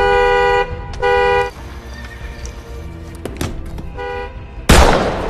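A car horn in a film scene sounds three short, steady honks spaced over a few seconds, followed by a sudden loud sharp burst at the end.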